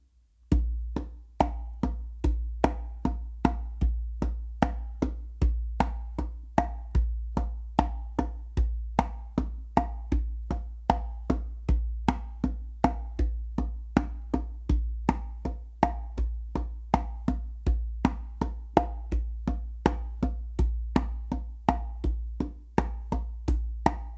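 A conga drum plays a slow, steady repeating pattern of sharp slaps and deep tones, close and clear, with no talking.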